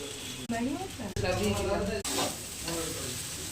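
Chowmein with soybean, potato and spices stir-fries in a hot pan, loud close sizzling with sharp scraping strokes, while a person talks over it.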